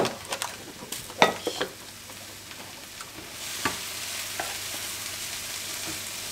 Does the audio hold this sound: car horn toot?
no